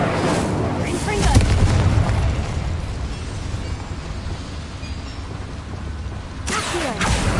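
Fire spell being cast in the Hogwarts Legacy video game: a loud, roaring magical burst with booming, crackling rumble that swells and sustains, followed by another sharp blast near the end.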